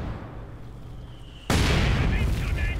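A mortar shell lands in a Company of Heroes 2 World War II strategy match: a quieter stretch with a commentator talking gives way to a sudden loud blast and a sustained rumbling roar.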